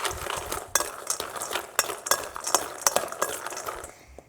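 Pecans being stirred with about a tablespoon of oil in a bowl, a steady scraping and clinking of a utensil with sharp knocks recurring every half second or so, close and fairly loud, ending in a brief quiet.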